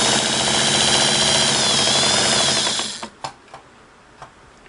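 Singer Model 99K sewing machine stitching with a steady, fast mechanical whir for about three seconds, then stopping, followed by a few faint clicks.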